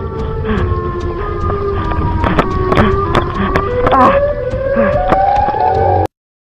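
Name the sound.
Siren Head creature loudly humming siren-like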